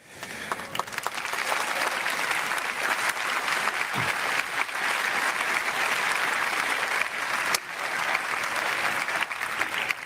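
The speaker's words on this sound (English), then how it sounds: "When I pause, it's because they're clapping and chanting libertad" A large audience claps and cheers continuously at a political rally, a dense steady wash of applause that stays loud throughout, with any chanting lost in the roar.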